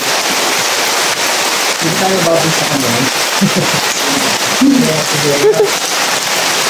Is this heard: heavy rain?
yes